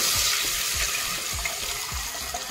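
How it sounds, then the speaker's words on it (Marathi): Water splashes and gurgles steadily into a pot, a continuous rushing hiss with soft rhythmic sloshes, close by and moderately loud. "इतकं पाणी ओतून घेतलंय मी।"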